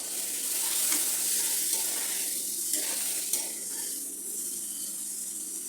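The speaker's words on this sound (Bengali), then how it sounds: "এরপরে মশলাটা আমি আবারও কষিয়ে নেব" Cumin, turmeric and chili powder masala frying in a pan for Bihari style fish curry, a steady close sizzle with occasional scraping stirs and soft clicks of the utensil, no talking.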